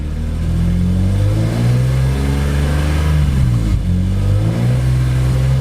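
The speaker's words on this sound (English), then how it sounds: "Give it a little rev." A high-mileage BMW E46 M3 with SMG gearbox revs up steadily and loudly, holding a rough mechanical drone before dipping briefly and rising again.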